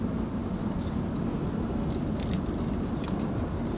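A set of car keys jingles softly against a steady low background hum, small metallic clinks scattered across a few seconds with no speech.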